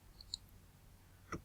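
A computer mouse clicks twice, faint and crisp, separated by about a second of quiet room tone while selecting a button in AutoCAD.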